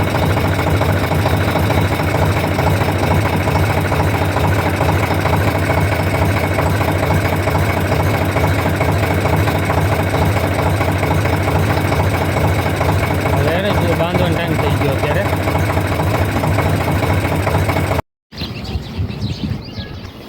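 A loud, steady tractor engine idles close by with a throbbing, chugging rumble throughout, briefly cutting out near the end before resuming.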